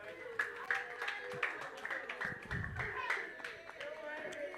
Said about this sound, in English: a round of applause for every comedian that have graced this show today